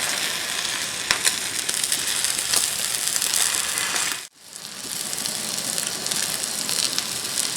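A steak sizzles loudly and steadily on a Blackstone griddle outdoors, a dense crackling hiss that cuts out abruptly for a moment midway, then resumes at the same strength.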